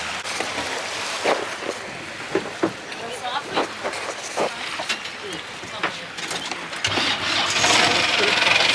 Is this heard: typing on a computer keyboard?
no